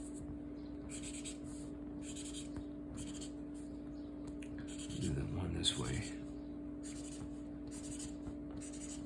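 Crayola markers scratching short repeated strokes across paper in regular bursts, faint and close over a steady electrical hum, with a brief spoken remark in the middle.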